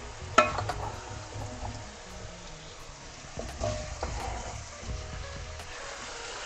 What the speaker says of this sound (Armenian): կավելացնենք կարտոֆիլը եւ մեկ անգամ կխառնենք